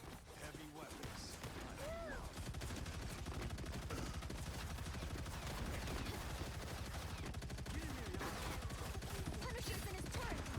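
Punisher's heavy weapons turret in the Marvel Rivals video game, with sustained rapid automatic gunfire and chaotic battle noise running throughout while players talk over it.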